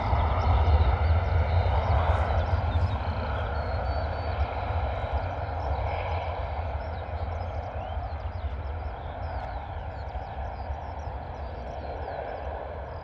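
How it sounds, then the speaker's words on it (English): A Ryanair airliner taxiing at Bristol Airport in a crosswind, a steady low engine rumble and broad whine holding at a distance, gradually easing off, with no voices. "Ryanair also rolling along. Off to Venice this morning."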